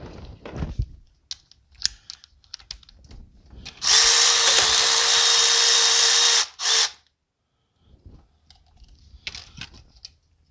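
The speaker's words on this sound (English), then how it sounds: "we're going to go ahead and get this ground bolt off" A power tool whirs for about three seconds while removing a 12 mm ground bolt from a 2006 Subaru B9 Tribeca engine, followed by a short second burst amid scattered clicks and tool handling.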